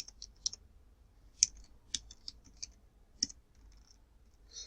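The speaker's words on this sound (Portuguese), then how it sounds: "Vamos digitar as letras, vamos digitar maiúsculas." Sparse, sharp clicks of letter keys pressed one at a time on a computer keyboard, close but faint, irregularly spaced with quiet gaps, no talk.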